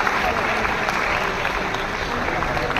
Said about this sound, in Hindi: मैडम बांसुरी स्वराज जी, आपकी तालियां लगातार बढ़ती रहें।